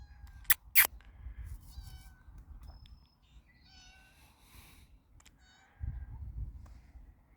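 A cat meows a few times, soft and somewhat distant, with a couple of sharp clicks early on and low rumbling background noise.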